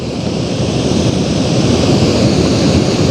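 Water rushing steadily at the Indravati river waterfall, set among dense forest in the Vindhya hills, a loud continuous roar with no break.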